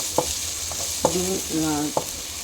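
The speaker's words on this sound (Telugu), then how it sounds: "బంగాళదుంప, క్యాప్సికమ్ ఇవన్నీ కొంచెం వేగాలండి." Potato, capsicum and beans frying in a pan with a continuous sizzle, punctuated by a few sharp utensil taps and scrapes as the vegetables are stirred.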